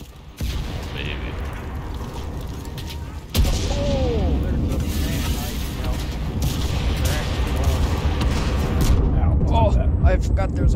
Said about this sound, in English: I forgot there's Art Strike. I saw it and I was like, oh, fuck off. Explosions.